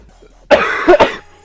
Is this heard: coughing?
yes